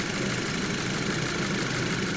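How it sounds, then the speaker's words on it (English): A car engine idles with the air-conditioning compressor engaged, a steady, loud, unbroken hum and whir that holds even throughout with no talking. "Now with the car on, we're gonna turn the AC on so we can kick the compressor in."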